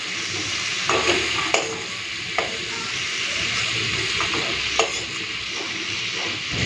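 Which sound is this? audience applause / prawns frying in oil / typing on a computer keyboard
prawns frying in oil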